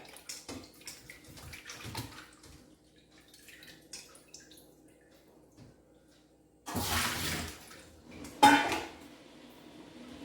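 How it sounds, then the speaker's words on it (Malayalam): Cut pieces splash and clatter in a vessel of water while being washed, in a few bursts of sloshing and clinking against quiet pauses, near and fairly loud. "കണ്ടിച്ച് വെള്ളത്തിലിട്ടു നമുക്ക് ഇതിനെ ഒന്ന് നന്നായിട്ട് കഴുകിയെടുക്കാം"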